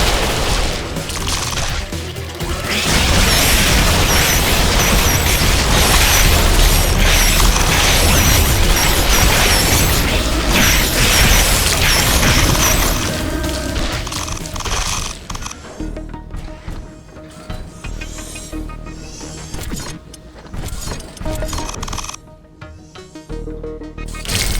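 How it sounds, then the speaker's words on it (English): Base structures in The Riftbreaker exploding under attack, with dense booms, crashes and rapid firing for about fifteen seconds, then scattered blasts and mechanical clatter as it thins out. "An energy connector has been destroyed"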